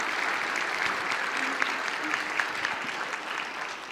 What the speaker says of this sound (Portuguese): Uma salva de palmas para essa atriz.